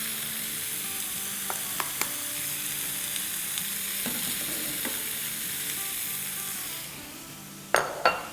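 Chillies and carrots sizzle steadily in hot oil as a tempering for dal, a dense continuous frying hiss with scattered clinks of a spoon against the pan, quieting briefly before a few sharper metallic taps near the end.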